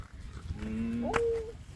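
Cattle, buffalo-type cows moved to higher ground during a flood in Tha Hat Yao, give a single drawn-out moo that rises and then holds steady, close and clear over a low outdoor rumble.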